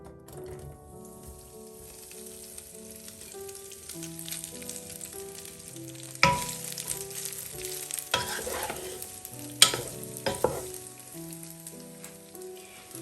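Steady sizzling and frying of boiled pasta in hot oil in a pan, with occasional stirring clatters, constant and close, with a faint musical tone underneath and no speech.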